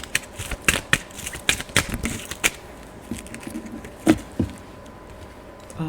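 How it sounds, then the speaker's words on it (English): Deck of cards being shuffled for a reading, a series of soft riffling bursts and taps close by, faint and irregular, with no talk. "Let me just shuffle."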